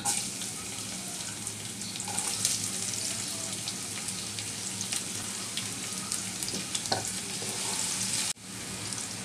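Onion and garlic frying in hot oil in a frying pan, a steady dense sizzle and crackle running throughout with a few brief stirring scrapes, fairly close and with no voices.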